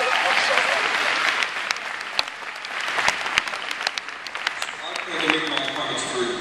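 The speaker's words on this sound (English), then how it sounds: "give the people in your life who helped you get here to this moment a round of applause" Steady applause from a large audience, a dense wash of clapping that holds throughout, with a few louder individual claps standing out.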